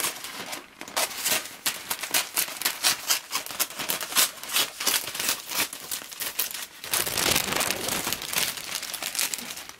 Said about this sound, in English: once you get the plastic exactly where you'd like, just go ahead and cut it